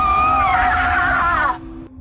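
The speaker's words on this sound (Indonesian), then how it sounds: "teriakan itu terdengar nyaring" A loud, shrill scream in a film scene, sustained and wavering for about a second and a half before cutting off abruptly.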